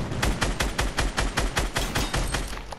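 Rapid gunfire in the video game Fortnite, a fast, even stream of sharp, loud shots about five per second that runs unbroken across the whole stretch with no talking.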